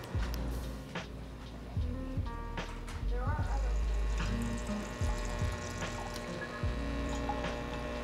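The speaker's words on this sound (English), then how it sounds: "it's going to put out some water from the water spout, which is just behind the group head there." A Breville Barista Touch Impress espresso machine pumps water out of the spout behind its group head while priming, giving a steady low pump hum with trickling water, under a voice speaking throughout.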